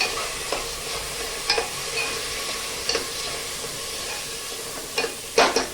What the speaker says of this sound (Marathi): आपले जे भिजवलेले डाळ तांदूळ आहेत हे डाळ तांदूळ आपण याच्यामध्ये घालून घेऊया छान हलवून घ्यायचं